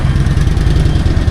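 A big bike motorcycle with a red plate, its engine running with a low, throbbing, steady pulse, close and loud, no talk over it.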